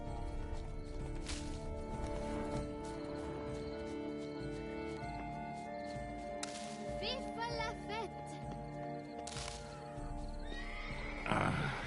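A horse whinnies several times in The Witcher 3: Wild Hunt over a busy game soundscape, with hoofbeats, a soft hum and a brief voice.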